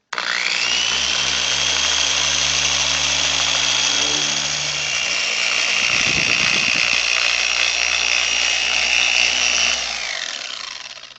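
Steady loud whine of a car polisher spinning a pad as it works Meguiar's yellow wax onto car paint, holding an even motor pitch for about ten seconds before winding down, with no voices.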